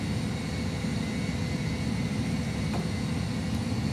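Jet engines of an Airbus A320 full flight simulator roar steadily at takeoff thrust, a continuous loud broadband rumble with no talk in the clip.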